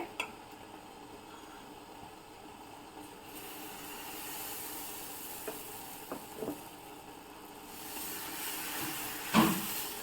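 Dosa batter sizzles on a hot tawa with a steady soft hiss, close and low in level, broken by a few small ticks and a louder scrape near the end.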